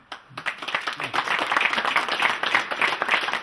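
An audience at a gathering breaks into applause that builds quickly after a brief hush and then holds as steady, moderately loud clapping.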